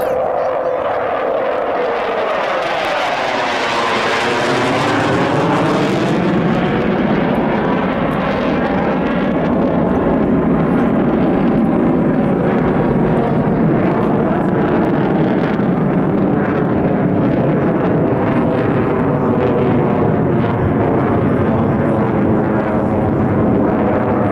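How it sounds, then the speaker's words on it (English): Loud jet roar from F-15 Eagle fighters of the 102nd Fighter Wing making a steep two-ship climb at a military air show, a sweeping rush that swells early and then holds as a sustained, dense rumble throughout. "Here they come, the F-15 Eagles of the 102nd Fighter Wing"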